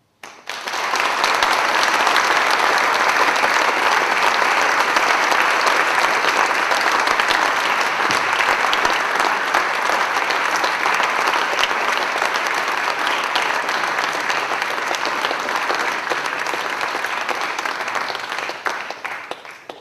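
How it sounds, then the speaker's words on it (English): An audience applauds at the close of the 2013 Dubs Lecture on human rights law, with loud, sustained clapping from a large crowd that holds steady for nearly twenty seconds before it fades. "The applause says everything, Peter, about people's appreciation."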